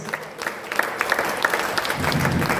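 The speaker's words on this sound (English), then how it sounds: "Clap him." Audience applause at an honoring ceremony for JCCF heroes, a steady patter of many hands clapping with scattered sharper claps, building slightly louder toward the end.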